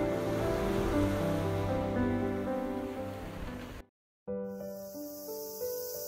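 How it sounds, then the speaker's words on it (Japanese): Strong ocean waves surge onto the Tanegashima shore in a continuous broad wash, loud and close. After a brief silent gap the surf returns with a higher hiss. "ざーっと波が押し寄せる。 種子島はちょっと強めの波だ。"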